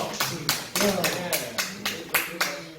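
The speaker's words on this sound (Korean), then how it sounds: "박수." A group at a Korean church service claps together in a steady, even rhythm, about nine loud claps in a row, close by.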